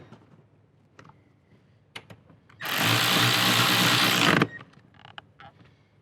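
A power tool tightens the front seat bolts inside a Toyota 4Runner, one loud steady burst of about two seconds, framed by scattered clicks and handling knocks.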